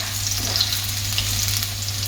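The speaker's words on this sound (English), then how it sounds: "So the oil is hot, we'll add chopped garlic to it. Just saute it a little, no need to brown it." Chopped garlic sautéing in hot oil for penne arrabbiata, a constant dense hiss of frying, close and even throughout, with no voices.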